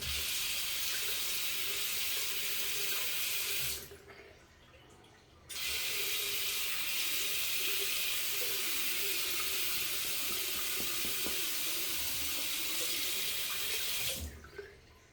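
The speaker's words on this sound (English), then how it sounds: "So I've tried to rinse that out 4 times and it's not rinsing." A tap runs steadily into a sink to rinse shaving cream, loud and close, stopping briefly for about two seconds and then returning, with faint clinks under the hiss of the water.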